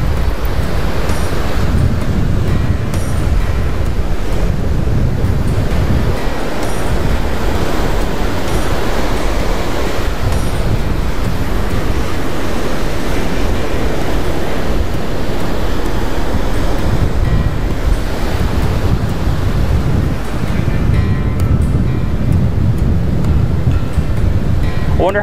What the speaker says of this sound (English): I wonder how bad the wind sounds on camera, because it's kind of windy.